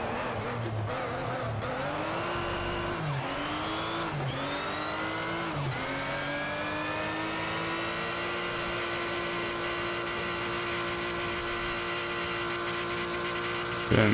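A race car engine in Need for Speed Shift 2 strains at steady high revs, droning loud and continuous, with brief dips and rising pitch sweeps as gears shift early on, then holding a long sustained whine.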